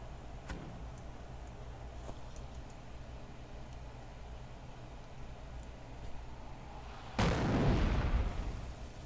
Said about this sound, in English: Order the mortar half-track to fire an incendiary barrage at the enemy infantry squad.